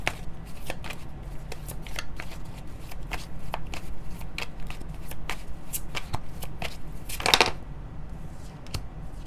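Tarot cards shuffled by hand close up, a run of crisp riffling flicks and snaps repeating steadily, with one louder burst of riffling near the end, no speech over it.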